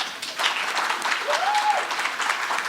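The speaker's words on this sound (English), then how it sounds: "I would like to give a big round of applause to all my committee members." A gala audience in Houston applauds the committee members with a broad wash of steady clapping, and a single faint whistle rises briefly in the middle.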